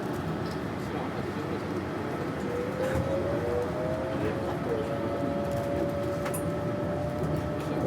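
A Yurikamome train in Tokyo rumbles steadily along, with a wavering tonal whine from the running gear rising and sliding across the middle of the ride over constant interior noise.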